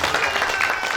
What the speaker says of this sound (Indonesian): Yuk kita tepuk tangan buat Tuhan.